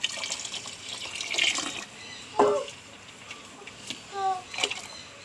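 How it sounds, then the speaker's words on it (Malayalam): Tamarind water poured into simmering sambar in a home kitchen: two short splashy pours of liquid, near and moderately loud, between quieter stretches of kitchen noise. "പുളിവെള്ളം ഒഴിക്കണം."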